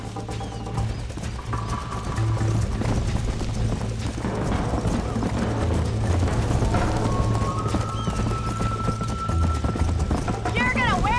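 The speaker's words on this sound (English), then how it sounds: "You're gonna wear that horse out!" Steady clip-clop of a galloping horse runs throughout in Red Dead Redemption, mixed with game music and other sounds, with voices speaking over it.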